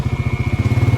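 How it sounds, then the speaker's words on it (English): A steady mechanical whir with a rapid, pulsing throb from a vehicle's radiator fan running close by, continuous and fairly loud throughout. "Sorry about my radiator fan."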